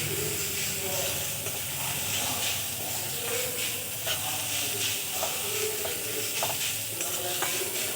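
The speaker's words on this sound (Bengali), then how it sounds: "করে রাখা আলুগুলো দিয়ে দেব। খুব ভালো করে মিশিয়ে নেব।" Raw potatoes stirred and mixed in a hot pan, giving a continuous hissing sizzle with soft scraping strokes of a spatula, close and steady.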